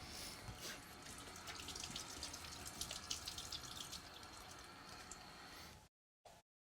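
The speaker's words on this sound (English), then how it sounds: "the first thing that we're going to do when we're always cooking is wash our hands" Running tap water pours steadily into a sink during handwashing in a kitchen, a continuous close splashing hiss that stops abruptly near the end, with one brief burst after.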